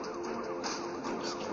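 Police car siren from the mobile game Smashy Road, a steady wailing tone sweeping up and down, fairly loud and heard alone without talk.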